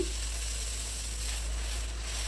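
Jowar dosa batter hissing on a hot griddle, a steady, even sizzle running unbroken throughout with a low hum beneath and no voices.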